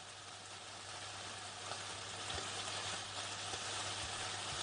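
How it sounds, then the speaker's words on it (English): Steady, dense crackling sizzle of Kentucky Fried Chicken frying in hot oil, a continuous rain-like hiss that holds evenly throughout with no voices. "Frying chicken as KFC and Hatch team up."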